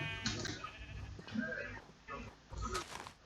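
A goat bleats in a Minecraft game, a few short nasal cries rising over game sounds while a young player talks nearby.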